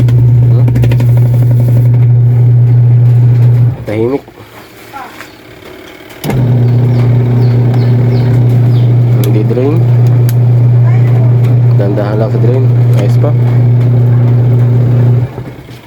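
A washing machine under repair runs its motor with a loud steady low hum through a timer test, stopping briefly midway before restarting; someone talks over it.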